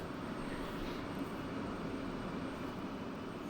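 A jet engine spools up in the DCS World flight simulator, a steady, broadband roar with a faint high whine that stays even throughout.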